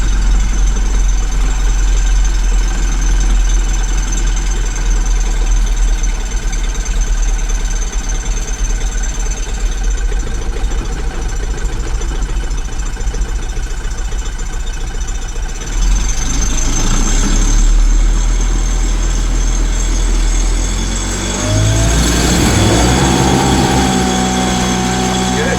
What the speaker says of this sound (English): Let's go ahead and pull the choke and give it a start